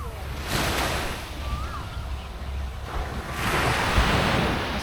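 Ocean surf at Sentosa Island, Singapore, washes in steady broad swells, with one wave building loudly toward the end, over wind rumble on the microphone and faint background voices.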